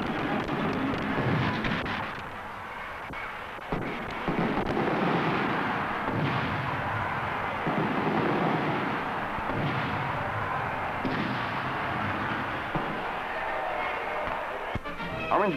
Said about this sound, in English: a colorful fireworks extravaganza in the Orange Bowl Stadium, designed to thrill young and old.